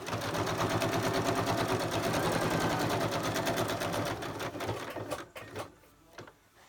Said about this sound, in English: If you don't like the sewing machine, turn the volume down.